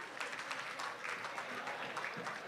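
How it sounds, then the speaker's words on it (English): Crowd at an outdoor Age Strong Party in the Park event applauding, a soft, steady patter of many hands clapping at a distance. "give us a round of applause"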